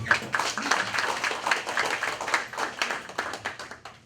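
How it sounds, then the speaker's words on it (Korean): Scattered hand clapping from a small group at a subway workers' union executive meeting, uneven and moderately quiet, with faint murmuring underneath. "박수 한번 해주시죠"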